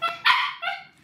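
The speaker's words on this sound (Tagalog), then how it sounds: "ang ingay ng aso ko." A pet dog barks indoors: three sharp, close yips in quick succession, the middle one loudest, with short gaps between and no talk over them.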